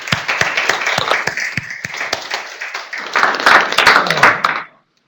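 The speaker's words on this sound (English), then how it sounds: "So big applause to you as well." Participants at a virtual exchange event clap in a scattered, uneven burst of applause that rises, then stops abruptly, with some voices mixed in.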